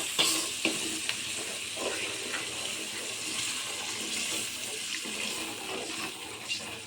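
Continuous scraping and stirring of a small-onion tamarind curry in a pan, with a soft sizzle and watery sloshing underneath, steady and close throughout.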